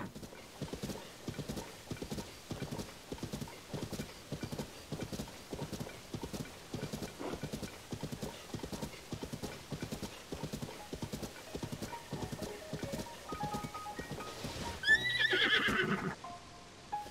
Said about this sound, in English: That you have a horse will definitely help with traveling a little bit.